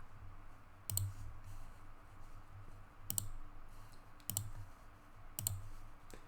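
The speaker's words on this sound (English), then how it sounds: "I'm double clicking to import" A computer mouse double-clicking, four quiet, crisp click pairs spaced a second or two apart over a faint background hum.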